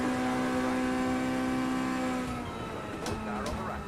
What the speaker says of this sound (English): We have a noisy Mustang.